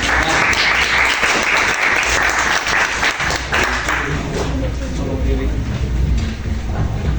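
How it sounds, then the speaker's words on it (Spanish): Loud, dense applause from an audience at a Spanish-language ethnoliterature discussion, steady clapping throughout with voices mixing in as it carries on. "un fuerte aplauso y a Cristina"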